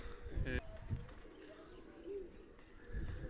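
A pigeon coos softly among a rooftop loft flock, a brief low rolling call under other bird sounds and someone talking nearby.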